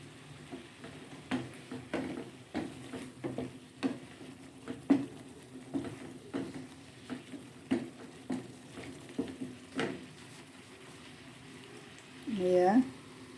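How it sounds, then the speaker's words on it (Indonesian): Beef simmering in a soup pot with bay leaves and lime leaves, soft irregular bubbling pops heard faintly under a person talking. "Ini dagingnya sudah mulai mendidih lagi."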